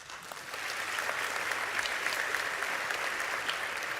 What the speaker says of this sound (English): Thank you very much for that warm applause for the Novello Orchestra.